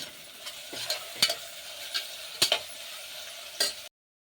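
Onions cut for mutton masala fry in a pan while a spoon stirs them, giving a steady close sizzle broken by a series of sharp scraping clinks at an uneven rhythm, then cutting to silence.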